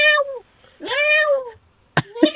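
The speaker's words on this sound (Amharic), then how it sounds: "አረ ራሱ ሚያው እንዴ" A cat meows several times close by, two long drawn-out calls followed by shorter clipped ones, with quiet gaps between them.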